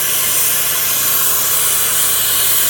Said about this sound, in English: So again, I'm putting the flame at this part here.